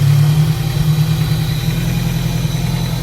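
A Honda S2000 engine swapped into a 1953 MG TF idles steadily up close, a loud, even low-pitched rumble with a slight rhythmic pulse and no speech.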